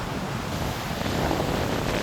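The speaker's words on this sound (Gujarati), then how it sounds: "અને અત્યારે દરિયો તોફાની છે." Rough monsoon sea at Malala seashore in Diu, with heavy surf rolling in as a steady, loud wash of breaking waves, joined by gusting wind noise on the microphone and no talk.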